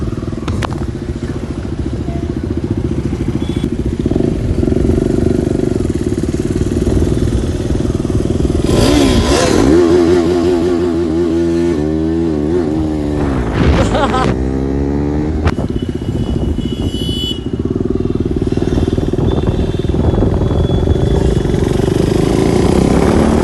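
Motorbike engines idle and rev as riders set off at night in Koramangala, Bangalore. The engine is loud and close, with rising and falling revs over street noise.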